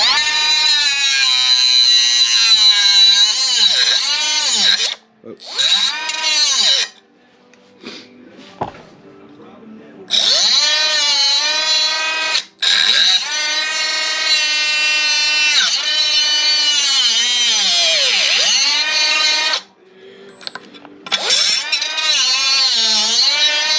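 A power tool whines loudly while cutting metal tube for DIY off-road rock sliders, in long sustained bursts with pitch dips as the blade bites, broken by short pauses, no talking.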